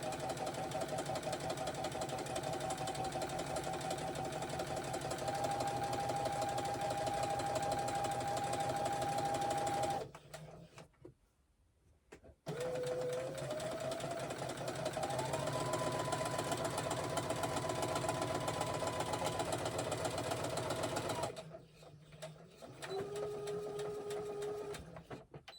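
A sewing machine stitches a fabric book cushion in long, steady runs of fast mechanical chatter, each run pausing briefly before the needle starts up again, with the motor pitch shifting slightly as it speeds and slows.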